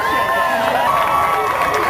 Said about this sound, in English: He's waving, the folks are cheering.